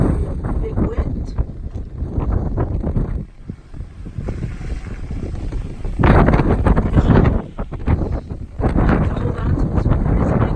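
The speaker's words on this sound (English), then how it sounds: "Hold on to this when there is a big wind. Like right now." Strong gusts from Hurricane Dorian in Stuart, Florida buffet the microphone in loud, roaring bursts that swell and drop, with a person speaking over the wind.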